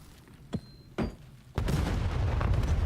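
A grenade going off in a Call of Duty match: two short sharp thuds, then a heavy, loud blast whose rumble carries on through the rest of the moment.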